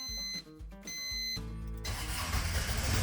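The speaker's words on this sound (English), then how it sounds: "you have to press this glow plug button for 10 to 15 seconds to start the engine." A Chevy S10 pickup swapped to diesel cranks after its glow plugs are preheated, with a rhythmic starter whir for over a second before the engine catches and settles into a steady, rough diesel idle, close and fairly loud.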